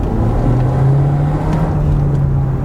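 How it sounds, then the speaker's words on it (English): A 2019 Volkswagen Jetta S with its 1.4 liter turbo engine pulls under light throttle, a steady close droning hum holding one pitch through a short burst with no talking. "Let's give it a little gas right about here."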